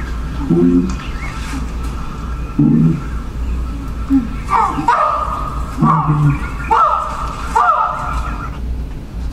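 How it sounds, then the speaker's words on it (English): Wah bark alarm calls from wild primates warning each other of a snake, heard as a series of short, rising yelps repeated roughly every second over a steady outdoor background hum. "they've seen a snake, and they use the wah bark, which you heard there, to warn each other about that"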